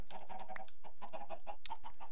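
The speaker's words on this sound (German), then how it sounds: "Wir schauen mal nach den Hühnern." Chickens in the Minecraft video game cluck in quick, repeated short bursts, several in a row with brief pauses, faint and alone.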